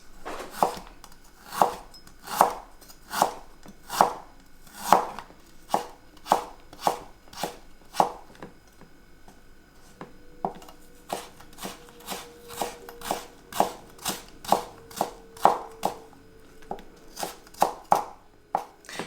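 Knife chopping fresh ginger into fine matchsticks on a cutting board for Kung Pao chicken, a steady run of crisp, close knocks about two per second, pausing briefly midway and then resuming.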